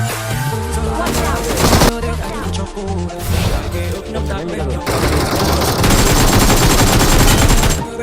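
Loud, continuous machine-gun fire from an M249 in PUBG Mobile, long rapid bursts with brief gaps, close and dominant, voices faintly underneath.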